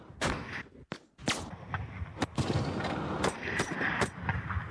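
Military gun firing a three-round engagement at a red van, heard as a series of sharp broadband reports and thuds spread across the clip, with a quieter gap between the early shots and dense sustained blast noise afterward.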